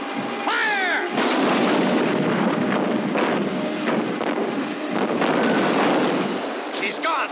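Cartoon ship gunners fire at a pursuing vessel, a dense roar of booming gunfire over wind and churning water, loud and continuous, with a voice briefly shouting at the start.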